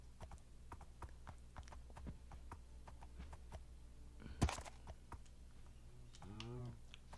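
Donkeys in the Minecraft video game clip-clop with soft, evenly spaced hoof taps, a quiet steady patter that runs throughout, broken by one sharp louder knock near the end and a faint voice.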